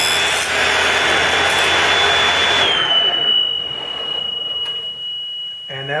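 A saw cuts a wooden division plate guided against a fence, giving a loud, sustained whine for a few seconds that shifts pitch and then fades as the blade winds down.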